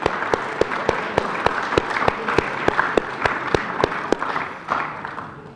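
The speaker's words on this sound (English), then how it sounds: "So I'd like to just applaud your parents for a job well done." A crowd at a high school basketball championship gathering claps for the players' parents in a steady rhythmic beat of evenly spaced, sharp claps that carries on for several seconds.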